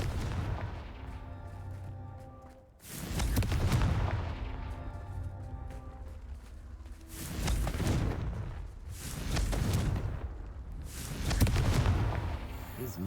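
Confringo fire spell blasts in Hogwarts Legacy, four or five deep booming explosions, each a loud rumbling burst lasting a second or two, spaced a few seconds apart.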